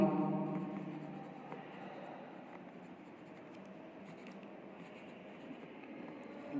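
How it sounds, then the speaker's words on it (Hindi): Pen on paper writing an answer to a class 9 statistics problem, heard as a faint, soft scratching under quiet room noise. "तो हम आंसर लिखते हैं यहाँ पे"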